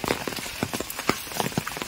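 Heavy monsoon rain falling in a Konkan village, a dense, steady close hiss of drops pattering on surfaces, with no voices.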